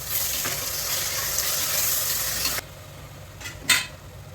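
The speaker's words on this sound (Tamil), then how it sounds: "அதில் இந்த அரைச்ச கலவையை சேர்த்துக்கலாம். இதை நல்லா வதக்கி விட்டுடலாம்." A ground spice paste being sautéed with browned onions in a pan for mixed rice, giving a steady, close sizzle that cuts off abruptly, followed by quiet and a couple of soft clinks.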